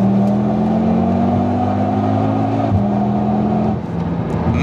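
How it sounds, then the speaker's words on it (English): An Audi TT RS exhaust bellows loudly as it accelerates, the engine note climbing steadily, briefly dipping at a gear change, then pulling on. "You're going to get a deep bellow from the exhaust, and you're just going to be catapulted into the horizon."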